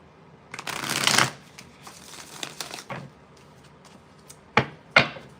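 A deck of tarot cards is shuffled by hand on a table, with a riffling burst, softer fluttering, and two sharp taps as the cards settle, close and quiet.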